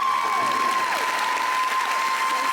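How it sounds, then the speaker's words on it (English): Audience clapping at a nursing graduation and pinning ceremony, a steady crowd patter heard over a sustained tone with gliding whistle-like pitches, like feedback or a ringing sound system. "Would you one more time give me another big hand clap?"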